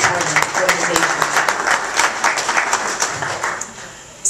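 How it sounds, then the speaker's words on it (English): An audience at a Homer Lockport Tea Party gathering breaks into dense, loud applause that carries on steadily for several seconds and then thins out toward the end. "give yourselves a round of applause, the Homer Lockport Tea Party organization"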